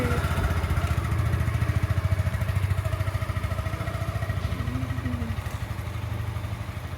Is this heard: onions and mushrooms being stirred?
no